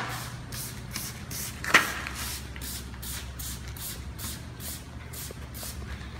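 A sprayer mists colour onto the stones of a horizontal stamped and carved concrete overlay, giving a regular series of soft hissing puffs about every half second, close and fairly quiet, with a single sharp tap near the start.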